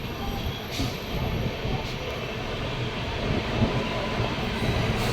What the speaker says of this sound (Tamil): நம்ம ட்ரெயின் நிற்குது.